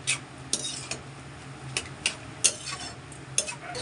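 Spoon stirring and mashing boiled potatoes in a metal pot while making a vegetarian banana-flower dish, with irregular scraping clinks and taps over a low steady background hum.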